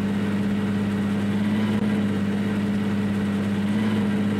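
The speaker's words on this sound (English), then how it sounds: "This tractor is loud," A tractor engine in the video game Farming Simulator 19 drones loudly at a steady pitch, a continuous low hum running without talk throughout.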